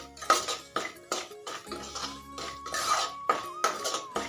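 Semolina is stirred and roasted in hot ghee in a pan for sheera, close-up rhythmic scrapes and metallic clinks of a spoon against the pan repeating every half second or so.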